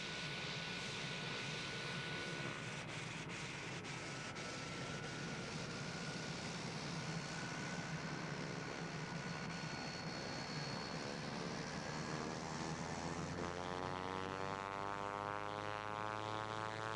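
A Royal Australian Air Force PC-9/A trainer taxiing at Laverton, its engine giving a steady, close, unbroken drone with a faint whine running the whole time.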